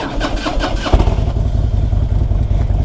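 A 2002 Harley-Davidson Electra Glide Ultra Limited with fuel injection cranks briefly with its starter, then catches and settles into a loud, close, deep, lumpy idle.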